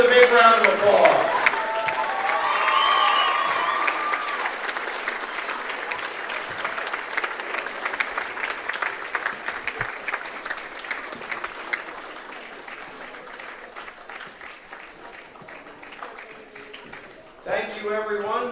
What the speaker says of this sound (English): let's celebrate our seniors here with a big round of applause